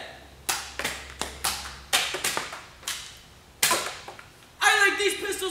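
Repeated sharp plastic snaps and thwacks from a Nerf Alpha Strike Battalion set blaster being cocked and firing darts, a dozen or so close, crisp transients at irregular intervals, ending with a brief voice.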